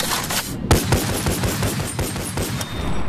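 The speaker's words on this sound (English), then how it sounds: "Wait, what if I mag dump this thing?" A gun emptied in one rapid mag dump in the VR game Bonelab: a fast, unbroken stream of loud, close shots cracking in steady rhythm for about three seconds, with nothing else heard.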